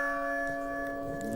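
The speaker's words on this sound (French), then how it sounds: "quand ils disent voilà la cloche, c'est l'heure de prier" A church bell in the Resident Evil 4 video game rings with a steady sustained tone, its long humming resonance filling the scene alone without speech.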